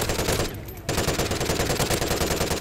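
Rapid automatic weapon fire in the Call of Duty: Ghosts Onslaught multiplayer map Ignition, loud and close, a continuous stream of shots that briefly pauses and then resumes.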